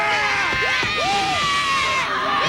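Young fans cheering and screaming in a football stadium at the 2000 Humanitarian Bowl between Boise State and UTEP, a loud, continuous roar with high whoops and shouts rising over it, full and close throughout.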